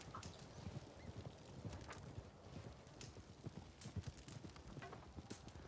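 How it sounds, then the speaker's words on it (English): Several horses clip-clop closer on a dirt road in a Red Dead Redemption 2 medieval roleplay scene, a dense irregular clatter of hooves that stays fairly quiet throughout, with a faint whinny mixed in. "I hear the clatter of more horses approach."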